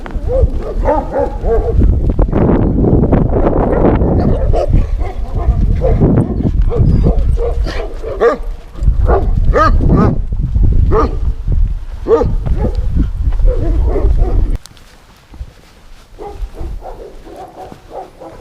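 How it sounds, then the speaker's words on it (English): Great Pyrenees guard dogs at a high-country alpaca ranch bark loudly and repeatedly in rough, uneven bursts mixed with whimpers and yips, then fall quieter near the end. "Alpacas are protected by these Great Pyrenees."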